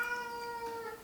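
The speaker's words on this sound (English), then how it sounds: "Fat kitten wants to go outside." A kitten meows to be let outside, one drawn-out, tonal cry that wavers slightly and fades, heard alone and fairly faint indoors.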